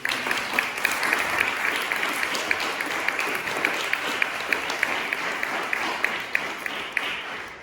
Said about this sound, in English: I actually think that Archie and Eilidh do deserve a round of applause